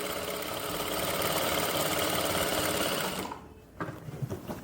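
A sewing machine runs steadily, stitching a garment at a gentle pace, its rapid mechanical whir continuous for a few seconds before stopping, followed by small handling sounds.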